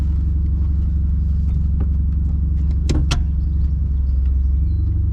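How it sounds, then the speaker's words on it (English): Driver's seat adjusted inside a tuned 250bhp VW Polo GTI, heard as a couple of sharp mechanical clicks over a steady low cabin hum. "Can I adjust your seat a little bit?"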